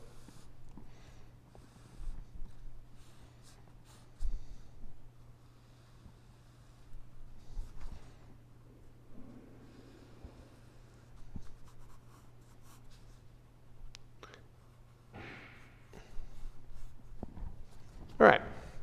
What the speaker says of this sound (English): only draw the lines that I want to draw in pen